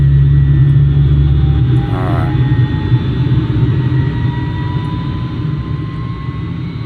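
Twin jet engines of a Dassault MD 450 Ouragan in a flight simulator, a loud continuous roar and rumble with a steady whine, briefly joined by a short clicking switch sound and a single spoken word.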